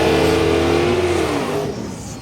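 An old C2 Corvette race car at a Big Sky mountain track revs hard with a loud, droning engine note that holds steady and then eases off as it moves away.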